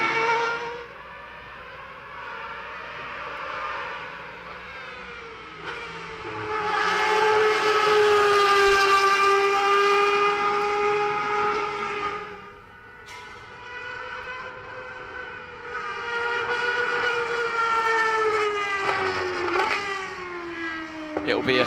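A Ferrari Formula One car's high-revving engine whines in long sustained tones that rise and fall on a warm-up lap, fading briefly before surging again, with a voice talking over it.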